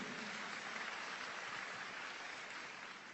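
A church congregation applauds during a sermon, producing a steady, faint, even wash of many hands clapping with no voices on top.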